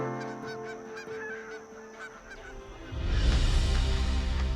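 Migratory geese honking in a vast Jiangxi wetland, many overlapping calls from a large flock, growing louder and denser with rushing noise toward the end.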